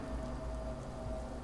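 Steady heavy rain outside, a soft continuous hiss of falling water with a faint low hum underneath, quiet and even throughout with no voices.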